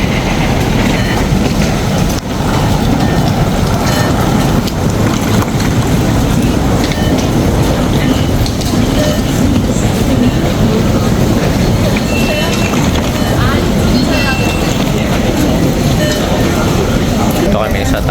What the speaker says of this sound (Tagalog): sakay na tayo ng train